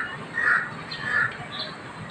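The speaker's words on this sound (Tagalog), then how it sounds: "Ang daming uwak." Crows cawing near a pigeon roost, two distinct harsh calls spaced about a second apart over a quiet outdoor background.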